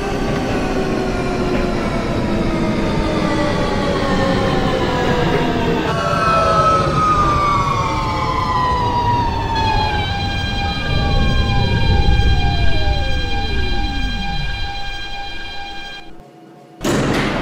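An R160 F line subway train in the OpenBVE simulator runs with a loud whining motor that drops in pitch as it brakes, wheels rumbling and squealing before it comes to a stop near the end.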